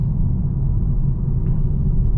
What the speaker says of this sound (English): The car is planted, great grip, and just accelerates forward.